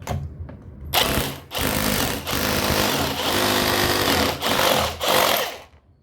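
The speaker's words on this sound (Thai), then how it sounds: "ขอเจาะยึดอะไรก่อนนะครับ" A power drill bores mounting holes to install a Central Air inverter 18000 air conditioner in a mansion. Loud, close grinding bursts are separated by short pauses.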